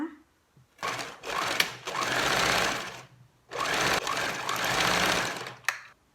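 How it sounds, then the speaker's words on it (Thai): A sewing machine stitches down the back seam of a camisole, running in two loud bursts with a short pause between, the motor whirring close and steady. "ก็เย็บลงมา ย้ำหัวย้ำท้าย"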